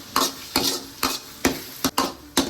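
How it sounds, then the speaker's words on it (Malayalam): Beaten eggs stirred and fried in a hot pan, with a spatula scraping in steady, evenly spaced strokes, about six over two seconds, over a soft continuous sizzle, close and clear with no voices. "ഇനി മുട്ട നമുക്ക് ചിക്കി വറുത്ത് കൊടുക്കാം."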